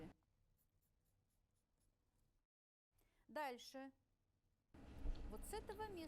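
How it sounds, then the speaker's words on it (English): A pen or marker scratches over fabric while a skirt sketch is drawn, faint short strokes early on, then a brief spoken phrase and a louder stretch of scratching and handling near the end. "I'm just drawing a sketch."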